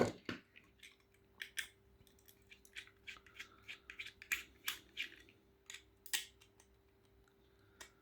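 Small screws being removed from the acrylic display case of a diecast model lifted off-roader: a close, quiet series of sharp clicks and ticks with uneven spacing, no talking.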